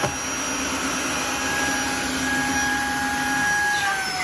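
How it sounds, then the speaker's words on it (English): Tineco Floor One S3 wet-dry vacmop running across a floor, a steady close motor whine with high tonal hum and airy suction, constant and alone without speech. "here's where I'm doing the vacuum cleaning"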